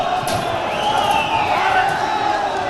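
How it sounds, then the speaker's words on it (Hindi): A large protest crowd of thousands advancing past broken barricades at Sanjauli in Shimla, a dense roaring mass of voices and shouting, loud and continuous, with a sustained chant-like tone rising above the din. "हजारों की संख्या में जो भीड़ है वो आगे की ओर बढ़ चुकी है"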